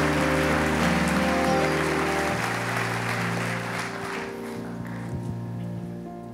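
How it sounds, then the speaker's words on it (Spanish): Warm audience applause fills a large arena at a celebration-of-life memorial for Juan Carlos Ortiz, welcoming speaker Glenn DeMaster. A steady wash of clapping sits over sustained music tones, then thins out toward the end. "te saludamos, Glenn DeMaster, con un caluroso aplauso"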